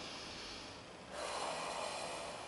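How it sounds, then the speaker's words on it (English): A deep breath drawn in through the nose during a calm, guided session, a soft airy rush that rises after a quiet pause and holds steady, close and alone with no talk. "Let's take a few deep breaths together"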